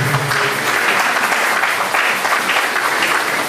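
A church congregation applauds in a steady, dense wash of clapping that fills the room for the whole stretch, fairly loud and sustained with no clear voices on top.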